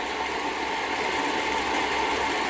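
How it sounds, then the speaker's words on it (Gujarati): A diesel pump runs nearby at a constant pace, a loud, continuous engine-like hum with no pauses. "ડીઝલ પંપ હાલે છે. ડીઝલ કાઢવાનું"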